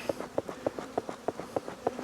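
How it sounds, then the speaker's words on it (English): Honey bees buzzing around a hive during a Demaree split, a close droning hum pulsing in a quick regular rhythm as insects pass near, fairly quiet with no voices. "there's definitely a lot of bees flying around"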